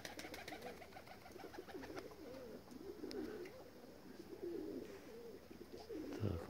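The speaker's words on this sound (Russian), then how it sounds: "Так, вот голуби" Several pigeons coo softly in repeated low, throaty phrases, faint and a little distant over a steady background hum.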